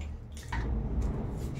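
Water poured from a spice-grinding jar into a pan of potato and chickpea curry, a short gush and splash that settles into a low, steady liquid rush nearby.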